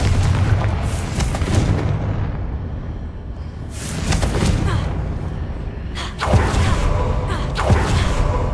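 Blasting spell explosions in a fantasy wizarding action game, with a few loud broadband booms, each swelling then tailing off, about every two to three seconds over a steady layer of game ambience.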